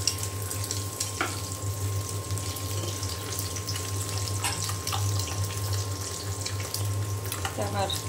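Eggs frying in a pan, a quiet steady sizzle with faint scraping and clinks of a utensil, under a low hum.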